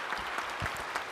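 A church congregation claps together in steady applause, a brief dense patter of many hands filling a large worship hall.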